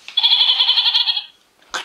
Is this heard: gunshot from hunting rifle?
no